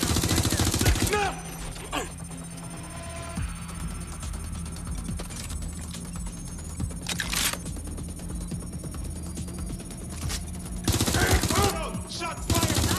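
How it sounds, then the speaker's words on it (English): Gunfire in the video game Watch Dogs Legion, played on PS5: several sharp bursts of shots stand out at the start, around the middle and near the end over a steady game ambience and background hum. "Shots fired."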